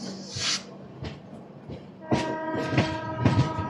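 An express train running from Mumbai LTT to Visakhapatnam approaches with a rising rumble and clatter, and a horn sounds steadily over the last second and a half.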